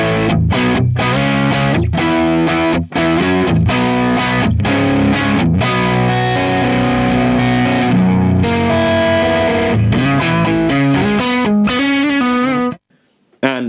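Electric guitar through a Boss DS-1 distortion pedal set to higher gain, playing chunky distorted chords and riffs with sharp rhythmic stabs, loud and close, ending abruptly.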